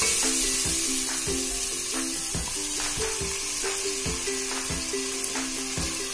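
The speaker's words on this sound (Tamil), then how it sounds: "இப்ப இத பச்சை ஸ்மெல் போகிற அளவுக்கு நல்லா வதக்கிக்கலாம்." Tomato, onion, ginger-garlic and green chili paste sautéing in hot oil for a chicken curry, a steady close sizzle broken by regular scraping strokes of a spoon across the pan, with no talking.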